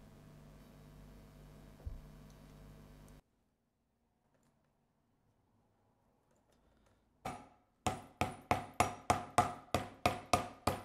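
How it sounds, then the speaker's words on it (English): Rivets being set with a hammer to fix a leather spine onto chest armor, heard as about a dozen sharp, evenly spaced strikes after a quiet pause, close and loud. "we punch some holes, put the spine in position and use rivet to hold it in place permanently"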